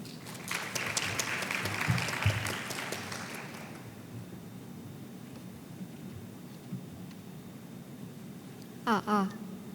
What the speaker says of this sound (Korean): 먼저 발언 전에 큰 박수 부탁드립니다.